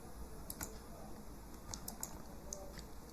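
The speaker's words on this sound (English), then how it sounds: "So press the control key and press and click on this High English option." Soft, quick key clicks from a computer keyboard, a few taps spread across a few seconds over a steady background hiss, as the Ctrl key is held and a mouse click follows.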